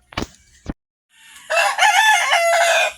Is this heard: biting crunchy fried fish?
no